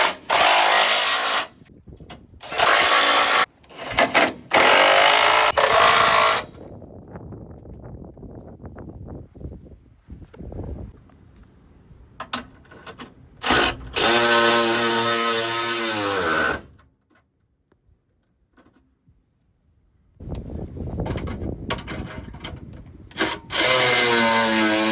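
A power tool tightens the bolts of a front hitch on a work truck in loud, close bursts of whirring and rattling, separated by quiet pauses and followed by a final long run.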